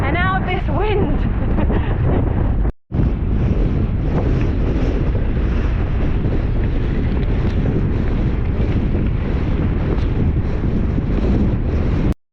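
Strong wind roars and buffets the microphone on a gravel road ride along an ancient English chalk ridgeway in Wiltshire, loud and steady across the whole stretch, with only a brief drop near the start.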